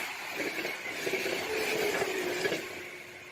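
A train rushes past very close in a played-back near-miss clip, a loud roaring wash of rail noise with a faint tonal whine, swelling and holding for a few seconds.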